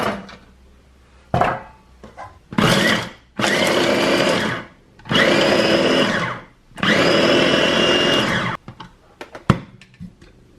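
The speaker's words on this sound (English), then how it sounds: "So I'm just going to peel them, half them, and pop them in my chopper." An electric food chopper whirs through peeled, halved onions in several loud bursts of a few seconds each, with brief pauses and small clatters between the pulses.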